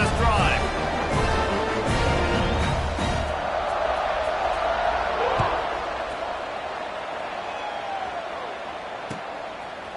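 A football stadium crowd roars and cheers during a kickoff at a Tennessee game, a broad, loud wash that fades somewhat toward the end, with a commentator talking over it and occasional sharp thuds.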